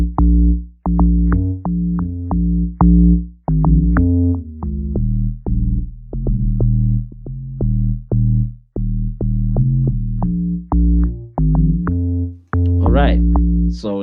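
A deep synth bass line from the hook of a song plays a repeating pattern of sustained notes with short gaps, loud and alone, with a rising pitched blip near the end.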